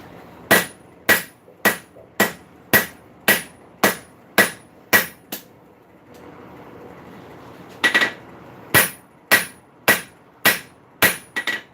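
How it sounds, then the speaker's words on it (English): A smaller blacksmith's hammer rings sharply on metal while forging a nail header, about ten evenly spaced strikes, a short pause, then another run of steady blows, loud and close with no talk. "Not so big hammer."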